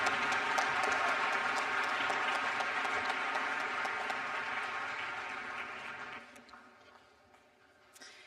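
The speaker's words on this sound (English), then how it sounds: "One more round of applause, please, for the EOHS choir" A high school graduation audience applauds the school choir with a loud, dense round of clapping that holds steady, then thins and fades out over the last couple of seconds.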